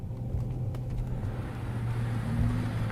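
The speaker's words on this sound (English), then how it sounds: "Look at this, a speed bump." Bentley Continental GTC convertible rolling over a speed bump, a muted low road rumble with soft thumps from the suspension, quiet and steady, with no talking.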